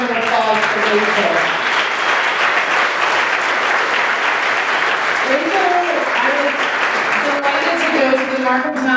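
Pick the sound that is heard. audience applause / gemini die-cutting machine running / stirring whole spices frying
audience applause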